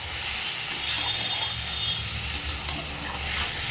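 Lemon chicken being stirred in a frying pan without turmeric, with a steady sizzling hiss and soft scraping stir sounds running throughout, close and moderately quiet, no talking.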